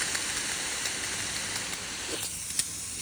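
A faulty Bollit spot cleaner on mode 3 gives off a steady, close hiss of steam with no suction noise, continuous and fairly quiet, with a couple of faint clicks near the end.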